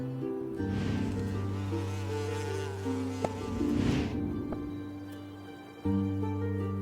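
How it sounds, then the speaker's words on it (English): A bee feeds on flower nectar, its buzzing drone steady and close, with tonal hum dipping and swelling before a brief pause and a renewed burst near the end. "You just see a bee feeding on nectar."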